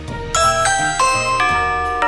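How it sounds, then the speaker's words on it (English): A doorbell chimes repeatedly, several bright ding-dong tones ringing out in a steady pattern, fairly loud and close with no talking. "I heard the doorbell"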